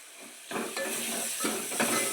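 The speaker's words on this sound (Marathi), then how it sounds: "तर मस्त असं फोडणीमध्ये हे सगळं मिश्रण भाजू द्यायचं" Spices and masala with turmeric and sambar powder roast in hot oil for tempering dal, giving a steady close sizzle with bursts of frying hiss and stirring as the mixture is moved around the pan.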